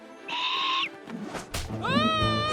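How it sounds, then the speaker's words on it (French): An angry cartoon bird in a French-dubbed animated children's series gives loud, close, shrill squawking calls, a sustained cry followed by a rising, wavering screech over a busy background. "Cet oiseau est très en colère."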